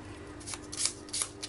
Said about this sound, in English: I'm just going to give these little cards a shuffle